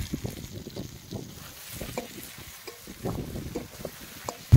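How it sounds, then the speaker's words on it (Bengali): Eggplant pieces fry in a pan with spices and coriander powder, giving a soft, steady sizzle and scraping stirs, faint and close, with no voices. "বেগুনের সাথে মশলাগুলো ভালো করে কষিয়ে নেব।"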